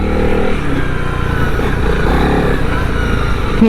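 A 2021 Honda CRF300L dirt bike rides and slides on sandy dirt, its engine droning loud and close at steady revs throughout.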